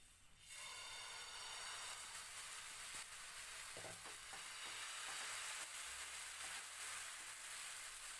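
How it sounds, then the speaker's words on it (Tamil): Wheat garlic dosa batter hits a hot pan and breaks into a sudden, sustained hissing sizzle that holds steady and close, with a few faint scrapes and no talking. "இப்போ நம்ம தோசை ஊற்றிடலாம்"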